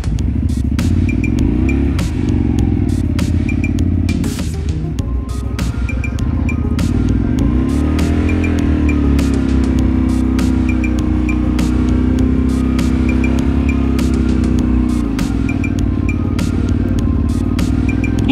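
A Honda Varadero 125 motorcycle engine runs continuously and loudly up close while climbing a steep hill, its drone shifting in pitch with throttle, with clattering ticks throughout and no voices.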